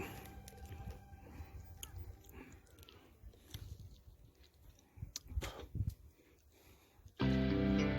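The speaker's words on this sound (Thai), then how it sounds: "ผมจะลองกินลูกดิบมันดู ว่ามันเป็นยังไง" A raw fruit chewed close up: soft, wet bites and crunches in an irregular rhythm, ending in a sudden loud burst of noise.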